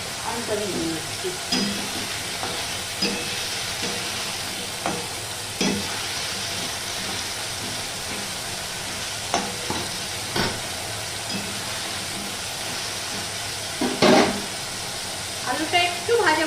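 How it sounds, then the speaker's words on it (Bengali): Potato pieces, lightly salted, fry in a pan for a banana-flower curry, giving a steady sizzle with scraping, clattering stirs every second or two that grow busier toward the end. "আলুটা খানিকটা ভেজে নিলাম"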